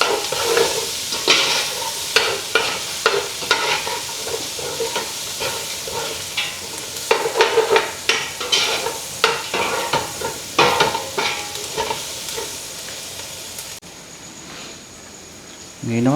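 Garlic sautés in a pan for ginisang ampalaya with pork, with a continuous oily sizzle and repeated scraping stirs of a spatula, fairly close and loud.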